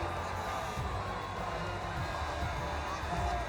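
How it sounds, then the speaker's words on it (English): A stadium crowd in the F1 25 racing game cheers for the driver Yuki Tsunoda, a low, steady wash of distant roaring and whoops with no clear talking. "The crowd roar their approval for Yuki Tsunoda."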